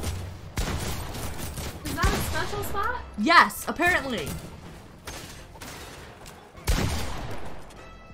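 Fortnite gunfire, bursts of shots cracking through a noisy match, with a sharp blast near the start and another loud one late, mixed under chatty voices.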